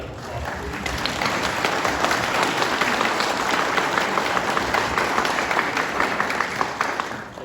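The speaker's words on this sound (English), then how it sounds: "So a round of applause, please." Sustained audience applause from a crowd at a veterans club gathering in a museum, dense steady clapping that swells in and holds at full strength for several seconds before easing at the end.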